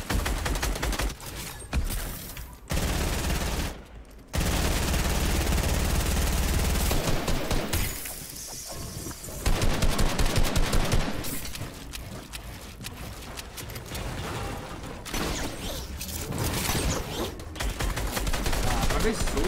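Dense gunfire crackles through a competitive cash-cup match in an online shooter game. Bursts of shots repeat rapidly with short breaks, and voices occasionally come through underneath.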